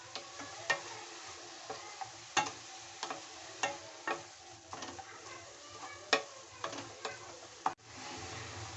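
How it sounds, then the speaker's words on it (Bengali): Bottle gourd frying with sugar in a pan, a steady soft sizzle broken by repeated sharp clicks and scrapes of a spatula stirring against the metal, close up and with no talking. "চিনি দেওয়ার পর আমি আবার ভেজে নেব"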